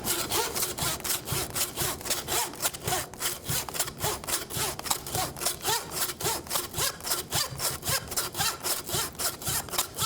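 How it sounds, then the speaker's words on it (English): A saw cuts through a venison backbone during butchering, with steady rapid back-and-forth strokes of rough rasping that continue without pause for ten seconds. No one speaks. "I want to basically cut right there and come to the middle of that backbone here"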